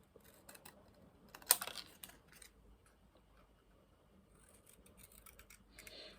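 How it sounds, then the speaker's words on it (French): Paper being cut with scissors for an art journal page, a few soft snips and rustles with one sharper cut near the start, close and faint, no talking. "Donc eh ben, je vais découper."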